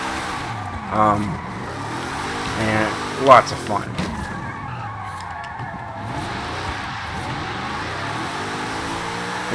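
A drift-tuned 2019 Zenvo TSR-S with 1177 hp and all-wheel drive, driven in a racing video game, gives a steady engine drone with brief tire squeals and skid bursts. Someone talks over it throughout.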